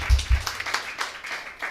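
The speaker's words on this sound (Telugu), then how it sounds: "ఓకే, చప్పట్లు" Scattered applause from a small gathering at a charity event helping pastors, with a few close low thumps and broken bursts of clapping that stay uneven and thin over less than two seconds.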